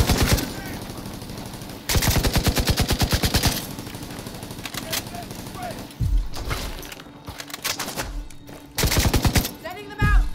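A deployed turret in Tom Clancy's The Division 2 fires rapid automatic bursts, loud and close, in several separate volleys with short pauses between them.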